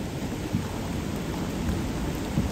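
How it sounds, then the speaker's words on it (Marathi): Heavy rain pouring down outdoors in a constant, dense hiss with low rumbling underneath, loud and unbroken for the whole stretch, with no voices. "पाऊस एवढा पडतोय"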